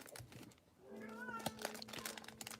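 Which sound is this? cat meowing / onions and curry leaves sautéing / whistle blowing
cat meowing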